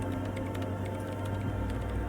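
A woman types on a computer keyboard in the video game Disco Elysium. Rapid, steady key clicks run close and clear over a low machine hum, with no talk.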